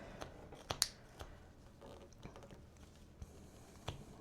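A knife making a stop cut while whittling a wood figure: a few small sharp snicks and clicks scattered over several seconds, close and quiet, with soft scraping between them.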